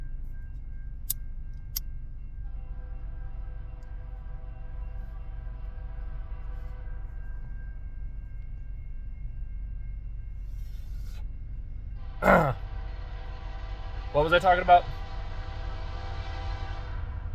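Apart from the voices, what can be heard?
passing train with horn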